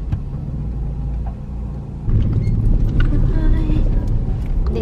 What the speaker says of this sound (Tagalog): ganito po ang itsura ng loob ng barko